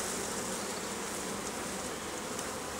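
Honeybees buzz steadily in a dense, close swarm as frames are slowly lifted from a hive during a bee removal from a pop-up camper, a continuous hum with no talking.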